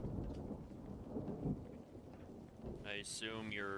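Thunderstorm in the Garry's Mod Star Wars roleplay game, a steady rain hiss with a low rolling thunder rumble, and a voice speaking over it near the end.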